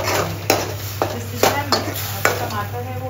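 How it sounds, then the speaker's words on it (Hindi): Green chillies, mustard seeds, cumin and fennel frying in a pan, stirred in four or five quick scraping strokes over a steady sizzle and constant low hum. "हरी मिर्ची डाल के ही थोड़ा सा इसको चलाएंगे"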